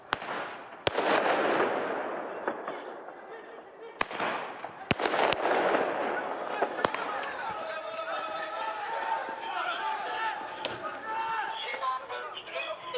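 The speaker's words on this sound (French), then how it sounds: "Pour protester, ses amis tirent plusieurs mortiers d'artifice." Several firework mortars go off during a street protest, sharp cracks and bangs at irregular intervals over a crowd murmur and running footsteps, with people talking and shouting throughout.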